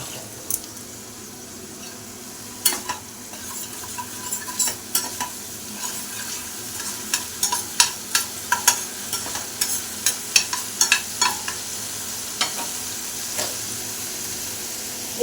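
Masala with chopped green chilies sizzles in a pan as a spoon stirs it, the steady frying hiss broken by repeated sharp scraping strokes that come in a quickening cluster, close and clear.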